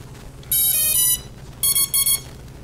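A smoke detector sounds a series of loud, shrill electronic beeps: a longer burst, then several shorter pulses in quick succession, heard close by in a quiet room during a gimbal test.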